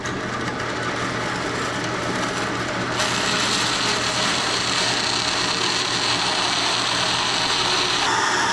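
A 40hp Honda outboard's skeg is cut out with a power tool, a loud continuous grinding, rasping drone that grows harsher and louder partway through, running steadily with no talking.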